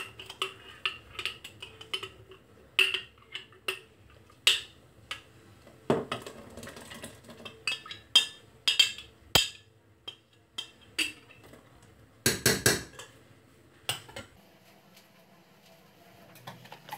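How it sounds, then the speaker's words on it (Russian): Kulich Easter bread batter being whisked by hand in a bowl, giving quiet irregular clicks and taps of the whisk against the bowl, with bursts and pauses throughout. "Все взбиваем до однородной массы"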